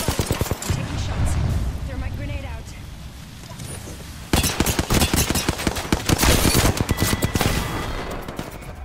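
Rapid automatic gunfire in the Apex Legends video game, dense bursts of close shots running almost continuously, with brief talk over part of it.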